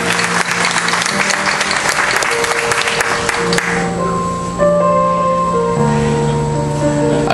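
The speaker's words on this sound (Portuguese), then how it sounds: "Podemos aplaudir essa surpresa do Marcelo." Wedding guests at Casa Vanelli applaud a surprise from the groom during the ceremony. Loud, full clapping fades after a few seconds, leaving sustained musical tones and a soft room murmur.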